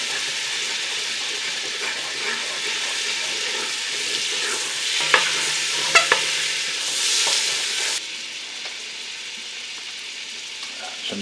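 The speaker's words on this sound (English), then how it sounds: "So now, as this butter melts, scrape the bits off the bottom." Butter melting over low heat in a pan while a utensil scrapes browned bits from the bottom, a steady sizzle with a few sharp scraping taps near the middle, quieter toward the end.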